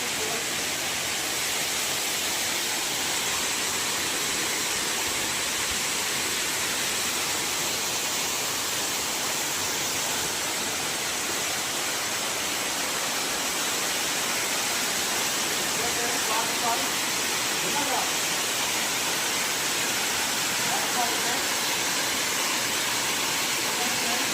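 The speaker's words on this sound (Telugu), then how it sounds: "ఒకసారి ఈ వాటర్ ఫాల్ మాత్రమే చూద్దాం" A steady, loud roar of falling water fills the whole stretch without a break, with faint voices briefly audible underneath partway through.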